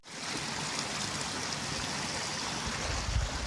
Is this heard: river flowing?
yes